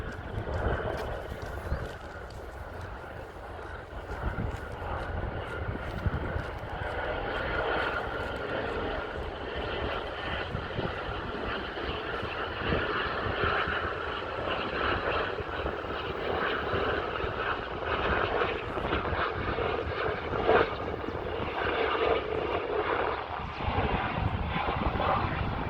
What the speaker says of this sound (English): there is helicopter now coming in